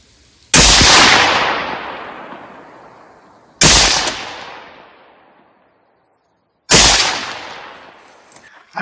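Three sharp, loud shots from a Ruger Mini 14 rifle, 584 series, with a Boyd stock, fired outdoors a few seconds apart, each crack trailing into a long echoing decay.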